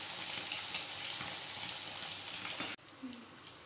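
Paneer pakoras frying in hot oil over a medium gas flame, a steady close sizzle and crackle that cuts off abruptly near the end.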